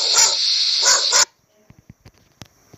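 A few loud, high-pitched barks from a small dog come first, followed by quieter scattered yips and whimpers.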